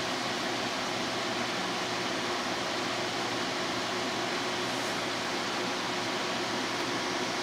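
LEPA Aqua AIO liquid cooler fan spinning at high speed, a steady, loud whooshing hiss of air with a faint low hum, constant and unbroken, heard close up with no voices.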